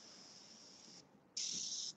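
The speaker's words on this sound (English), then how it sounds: "So you just spray a little bit on." Airbrush spraying paint in two short bursts of steady, close hissing, the second louder and brighter after a brief pause.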